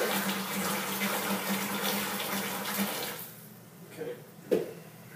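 Hot water gushes from a small kettle into a home-brewing vessel for a Coopers Mexican Cerveza kit, a steady loud pour that stops after about three seconds, followed by quiet clunks of the kettle being set down.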